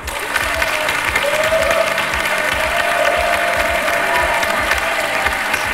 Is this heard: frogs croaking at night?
no